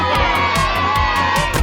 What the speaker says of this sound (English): Peppa and George shouted with excitement.